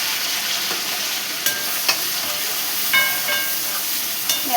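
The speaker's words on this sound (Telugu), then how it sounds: "ఇప్పుడు ఆనియన్స్, పచ్చిమిరకాయలు వేసేసుకున్నాం" Onions and green chillies sizzle steadily in a hot pan, a continuous bright frying hiss with occasional soft pops and stirring clicks, close and fairly loud with no talking.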